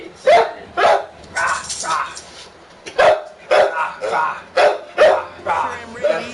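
An excited puppy yaps in the Dragon Ball Z: Kakarot video game, a rapid series of sharp, close barks in uneven bursts, mixed with game voices.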